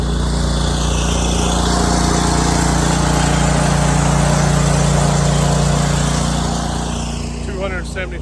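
Engine of a Honda 8-gallon-per-minute pressure washer running on a trailer during house washing, a loud steady small-engine hum with constant low drone, persisting throughout with slight swells, close by.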